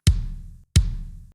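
Kick trigger drum sample with a roomy tone in an emo/pop punk drum mix, two evenly spaced deep hits with a bright attack and a short roomy tail, heard alone.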